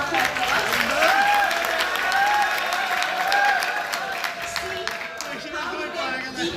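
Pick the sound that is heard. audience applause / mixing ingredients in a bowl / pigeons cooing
audience applause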